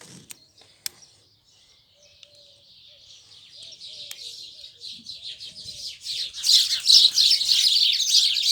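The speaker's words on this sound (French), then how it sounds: "les oiseaux qui font des siennes" Birds chirp and twitter outdoors by a swimming pool, faint at first with a few clicks and knocks, then a dense, steadily rising chorus of close, bright chirps that grows loud toward the end, no talking.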